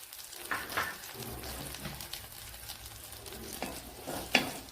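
Green chillies sautéing in hot oil in a pan for a kadala paruppu curry, a steady soft sizzle with occasional stirring scrapes and small crackles, close and fairly quiet with no talking.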